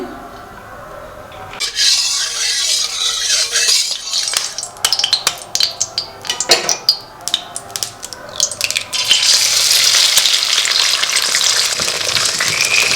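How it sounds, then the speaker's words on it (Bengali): Oil heats in a pan for frying eggs, starting as a quiet hiss, then breaking into loud crackling spatter and utensil clatter before settling into a strong steady sizzle. "প্রথমে একটু ডিম ভাজার জন্য তেল দিয়ে দিচ্ছি।"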